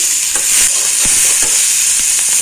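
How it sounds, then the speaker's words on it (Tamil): Onion and tomato sautéing in a pan for a spicy kuzhambu, a loud continuous hiss of frying with soft stirring scrapes, close up and with no voices. "நல்லா வதங்கட்டும்."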